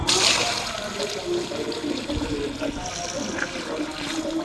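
Water pours and splashes for a goat to drink, a loud, close, continuous gush with trickling and spattering throughout.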